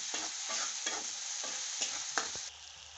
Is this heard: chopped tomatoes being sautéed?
yes